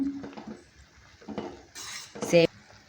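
A spoon stirs fried vermicelli in a pan for semiya payasam, scraping and clinking against the metal with a faint sizzle, in short close bursts with quiet gaps between.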